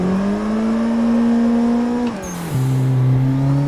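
A car engine in a racing video game revs steadily through a lap, a loud, close drone that dips sharply as it shifts and then climbs again at a lower pitch.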